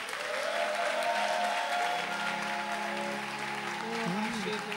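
A church congregation bursts into loud, sustained applause and cheering, a dense continuous wash of clapping holding steady for several seconds with a sustained tone underneath.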